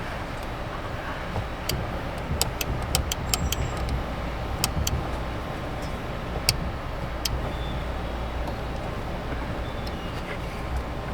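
A 2009 Dodge Challenger engine runs steadily, a dense low rumble with light ticking and clicking on top, close and even throughout, with no speech over it.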